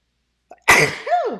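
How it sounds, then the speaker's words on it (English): A single loud, close sneeze bursts out sharply after a brief intake of breath, trailing off into a short voiced tail. "I'm going to sneeze."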